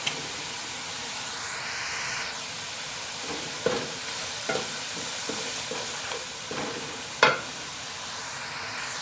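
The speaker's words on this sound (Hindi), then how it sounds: "तो टेंडे प्याज हमारे अच्छे से हो गए हैं फ्राई। 2-3 चॉप की हुई टमाटर डालते हैं।" Tinda (round gourd) and onions sizzle in a frying pan as chopped tomatoes go in, a steady close hiss broken by several soft stirring scrapes and one sharper clank.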